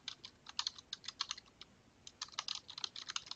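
Rapid typing on a computer keyboard, a dense run of close, crisp key clicks with brief pauses between bursts, entering search terms, with no talk.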